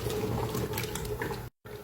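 Water poured from a filled yogurt container into a pot of chicken biryani simmering on low heat, a steady close splashing stream lasting over a second before a brief cutoff and a short resumption.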